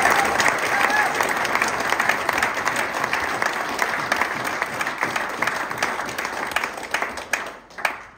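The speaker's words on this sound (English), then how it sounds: "deserves a round of applause" Wedding guests applaud steadily at a reception during the speeches, a dense crowd of clapping hands that carries on for several seconds before thinning and tapering off at the end.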